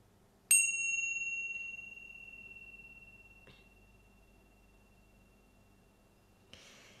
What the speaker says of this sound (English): Use your hearing sense to really hear the chime